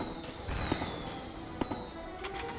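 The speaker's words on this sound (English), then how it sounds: "A bunch of shooting. Crazy attacks." Gunfire and attack effects during a boss battle in an action video game, a fast clatter of bursts and pops with descending electronic sweeps, steady and moderately loud without talk.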